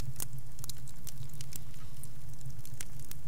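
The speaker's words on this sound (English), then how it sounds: "this one has fire crackling, which is pretty nice" Fire crackling in Nancy Drew: The Haunting of Castle Malloy, scattered sharp pops and snaps over a steady low rumble, moderately quiet and continuous with no voices.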